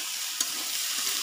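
Onions, green chillies and fried dried chilli hitting hot oil in a home kitchen pan, a soft steady sizzle with a brief stirring scrape partway through, fairly quiet and close, no voices.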